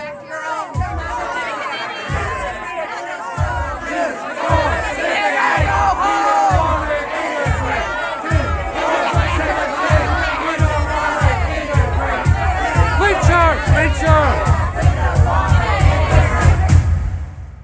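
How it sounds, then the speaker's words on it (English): An archival recording of an angry mob screaming and shouting behind someone, with dense, chaotic crowd yelling and a regular thudding rhythm like stamping or banging building in intensity throughout. "people were screaming behind me what I would have described as a crowd before. To my ears, sounded like a mob."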